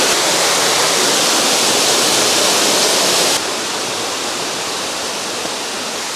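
A waterfall in Guangdong Grand Canyon roars in a loud, continuous broadband rush close by, the level dropping slightly partway through but never letting up.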